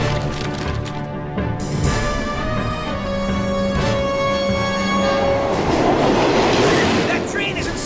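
A runaway cartoon train rushes along the rails with a steady loud rumble and clatter, a sustained whistle-like tone sounding partway through as the roar builds toward the end.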